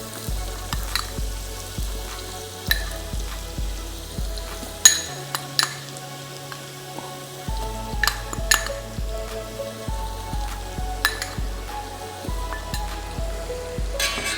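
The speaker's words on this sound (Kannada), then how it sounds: "ಇದು ಫ್ರೈ ಆಗಿದ್ಮೇಲೆ ಒಳ್ಳೆ ಫ್ರೇಗ್ರೆನ್ಸ್ ಬರೋವರೆಗೂ ಫ್ರೈ ಮಾಡಬೇಕು" Homemade biryani masala fries in a pan with a crackling sizzle, broken by a regular series of sharp spoon knocks and scrapes against the metal, with no talking.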